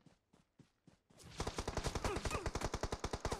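Automatic gunfire in PUBG Mobile: a few spaced shots, then a sustained rapid burst of evenly paced rounds, loud and close, with no talking over it.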